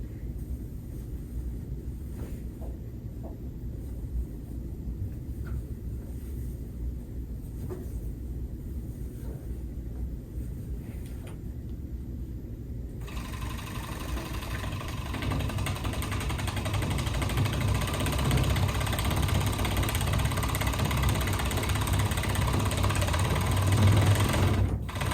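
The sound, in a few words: serger machine sewing cushion slipcover pieces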